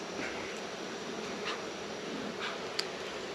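Honey bees buzz as a steady, dense hum at an opened, smoked hive, close and continuous for the whole stretch, with a few brief louder passes standing out and no talk.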